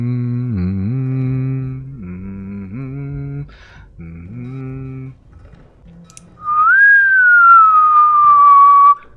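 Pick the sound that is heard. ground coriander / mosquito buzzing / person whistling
person whistling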